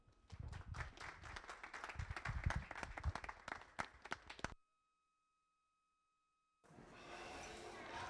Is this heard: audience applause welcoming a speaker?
yes